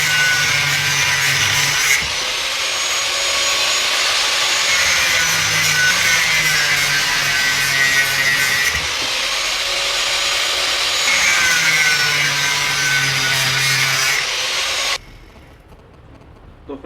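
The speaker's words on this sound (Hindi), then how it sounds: "तो उसके लिए अब हम ये करेंगे, इन स्क्रूज को काट देंगे।" Screws on an RO booster pump are being sawn through, producing a steady, loud rasping grind with repeated back-and-forth strokes for about fifteen seconds before it abruptly stops.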